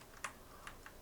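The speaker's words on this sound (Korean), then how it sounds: "키보드에 F9 버튼을 누르면 자동으로 이렇게 배열 상수로 변환이 됩니다" A single F9 key pressed on a computer keyboard gives a short, crisp click, followed by two fainter key taps, all close by and alone in a quiet room.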